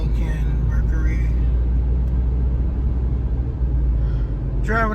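A car driving along Southside Boulevard, past Cadillac and Lincoln dealerships, with a steady, loud low road rumble and engine drone from inside the cabin throughout, and a brief voice near the end.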